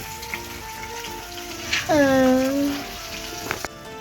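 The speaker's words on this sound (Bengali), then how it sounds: "আর ওখানে কি হচ্ছে? মাছ ভাজছি।" Fish frying in a pan at home gives a steady, close sizzle throughout, with a brief tonal whine rising and fading midway.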